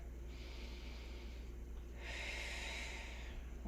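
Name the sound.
deep breath during a yoga stretch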